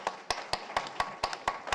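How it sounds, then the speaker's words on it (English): At a mayoral candidates forum, a few sharp, evenly spaced claps ring out in a steady rhythm, close and fairly distinct, with no talking. "That applause was on Antonio's time"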